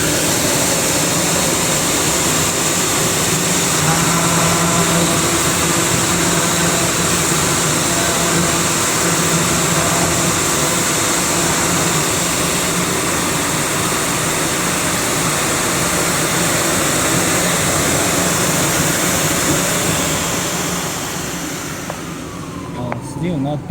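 A CNC cutter for snowboard topsheets and base sheets runs with a loud, steady mechanical roar that holds for about twenty seconds before easing off, while people talk over it.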